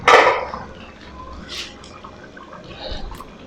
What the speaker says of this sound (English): Time to stir this thing